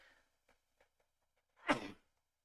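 One sneeze erupts up close after a few faint clicks and breaths, then quiet.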